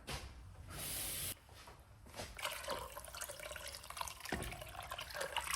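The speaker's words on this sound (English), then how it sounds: "Now I'm gonna add the cold water to sink them" A short hiss of running water, then splashing and trickling as cold water is poured into a pot of seafood stew peas, with a few knocks, close and quiet.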